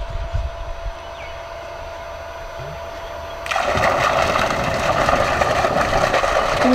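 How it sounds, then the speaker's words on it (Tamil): A solar-powered borewell motor pump on a farm kicks in after a quiet stretch with low rumble, then water bursts out in a loud, steady gushing splash that continues to the end. "ஆனவுடனே மோட்டர் ஓட ஆரம்பிச்சிடும்"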